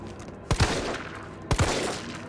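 Two gunshots in the video game Resident Evil 3, evenly spaced about a second apart, each a sharp close blast with a short echoing tail over low background ambience.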